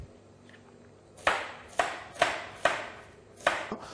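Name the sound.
knife cutting an onion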